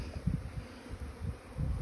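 Honeybees from Mersin buzzing in a low, steady drone that swells and fades, close by and without any voices.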